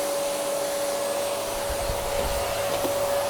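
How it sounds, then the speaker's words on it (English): Vacuum cleaner running across a floor, a steady loud whine with a constant tone, continuous and close with no voices. "vacuuming the floor"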